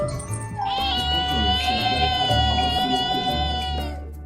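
A little kitten meows in one long, loud, drawn-out cry close by, with a faint jingle and some background noise beneath it.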